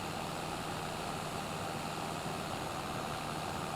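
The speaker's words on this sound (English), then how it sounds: "So I'll take the tractor and the weeder right here into our new yard." A tractor engine idles in a farming video game, a steady, continuous low rumble with a broad even hiss above it, holding at a constant level throughout with no talk.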